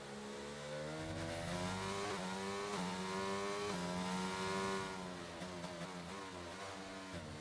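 An F1 car's engine in a racing video game howls down the straight with DRS open, a continuous high-revving whine climbing through gears with brief shifts, steady and loud.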